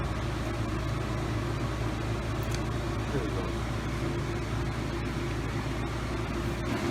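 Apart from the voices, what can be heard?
vacuum pump running, hooked to AC lines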